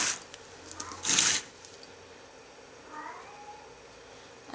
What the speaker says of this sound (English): the cat meowing in the background